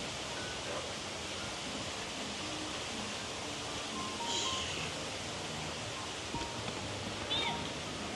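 Waterfall at Khao Chan Hom farm in Khao Yai, a steady broadband rush of falling water filling the scene, with faint voices and a few brief high chirps in the background.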